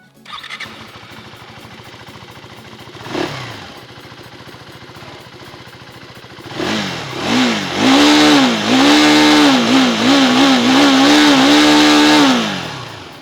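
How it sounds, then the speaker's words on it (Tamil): A 2025 KTM 390 Adventure single-cylinder motorcycle idles with a steady thump, then its exhaust barks through repeated throttle blips, rising and falling in loud close revs before settling back. "இப்போ இந்த எக்ஸாஸ்டோட நோட் எப்படி இருக்குது அப்படிங்கிறத இப்போ நம்ம செக் பண்ணி பார்க்கலாம்"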